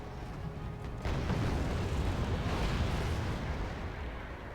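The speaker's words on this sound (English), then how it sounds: "Cluster munitions coming in." Cluster munitions detonating in the wargame Wargame Red Dragon, a sudden dense barrage of rumbling, crackling explosions that swells into a continuous loud roar after a quieter start.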